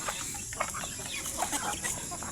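Native chickens clucking on a farm, a steady background of soft, overlapping clucks and bird calls at moderate distance with no talk.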